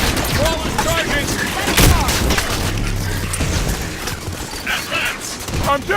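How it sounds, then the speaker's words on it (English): Dense gunfire and explosive booms from the Halo 5: Guardians battle, loud and continuous, with weapon mechanisms clattering and a heavy blast near the two-second mark. "They're shooting from that tanker."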